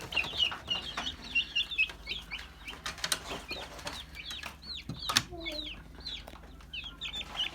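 Brahma chickens cluck and call repeatedly at close range in an evening coop, sharp bursts of bright chatter with an occasional flutter of wings and faint low talk underneath.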